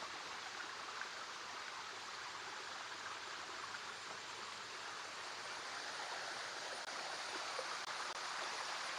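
A small waterfall beside a rural path pours steadily into a stream, a broad continuous rush of water that stays close and even throughout with no voices.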